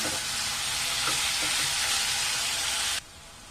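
Tomatoes and onions sizzle in a hot pan for a chicken curry, a steady, fairly loud hiss of frying with a few soft stirring touches, cutting off abruptly near the end.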